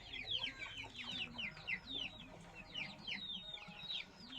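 Brooding hens cluck softly in quick repeated bursts, close by, over a quiet rustling background.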